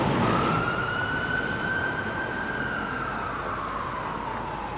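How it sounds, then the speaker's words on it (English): An ambulance siren passing along a downtown city street, a loud steady wail that holds then slowly falls in pitch as it moves away, over traffic rumble. "As an ambulance rolls by."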